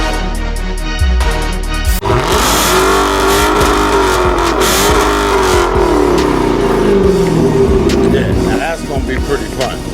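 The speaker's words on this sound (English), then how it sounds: "the car we're going to be reviewing today is a manual Dodge Hellcat" A manual Dodge Hellcat's engine roars loud and close, revving hard and holding a heavy sustained growl that rises and falls, with people talking over it.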